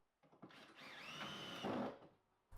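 A power drill whirs up and drives a screw into wood, its motor pitch rising and straining for about a second and a half before stopping.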